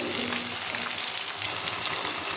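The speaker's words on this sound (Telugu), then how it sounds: "ఇప్పుడు బంగాళదుంప ముక్కలు కూడా వేసేద్దాం." Potato pieces hit a hot frying pan, giving a steady, loud, close sizzle of frying with a constant hiss throughout and no voices.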